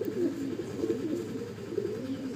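Madrasi pigeons coo in a loft, a continuous low burbling of overlapping calls at moderate volume, close by, with no speech over it.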